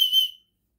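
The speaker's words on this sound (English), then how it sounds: "you got your whistle" A survival kit whistle gives one short, shrill, piercing blast lasting under half a second, loud and close, then cuts to silence.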